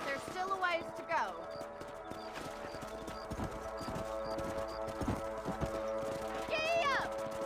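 Horse hooves clip-clop steadily while riding in Red Dead Redemption, with a whinny, background game sounds and talk over the top.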